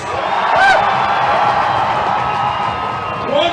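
A large crowd cheers and whoops at a march for Palestine in Washington, a loud sustained roar with individual shouts rising at the start and end, outdoors.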